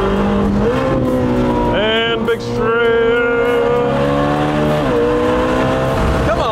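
A wrecked exotic car bought cheap runs on a race track, its engine loud and close as it downshifts with falling revs, then climbs through rising gears. Occupants talk over the engine.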